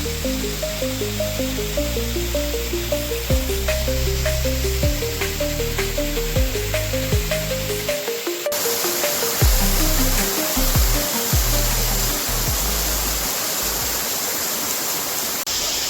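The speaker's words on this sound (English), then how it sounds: "this is a waterfall that everybody can come to" Steady roar of a waterfall in the Cape Breton Island backcountry, broadband rushing water close by and constant throughout, with no talking.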